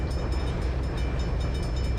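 A train rolling past in Trainz 2022 on Midwestern rails, a loud continuous rumbling roar with faint rhythmic clatter, steady throughout.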